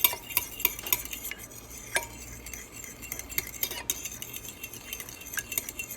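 Bread dough ingredients for a semi-sweet white bread being stirred together in a bowl, repeated scraping and light clinking of a utensil in an uneven rhythm, close and fairly quiet.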